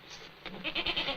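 A goat gives a short, wavering bleat, rising partway through the brief moment and sounding fairly close.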